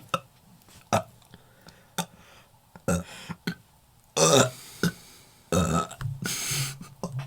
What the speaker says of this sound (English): Extreme burp warning.